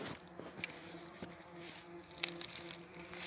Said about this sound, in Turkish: bombuslar yine içeri giriyor ve çıkıyorlar ya da giremeden kalıyorlar.